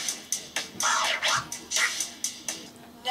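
Vinyl scratches on a Pioneer DJM-S9 mixer setup swish back and forth in a quick rhythmic pattern, cut into short chopped bursts by sharp clicking fader cuts.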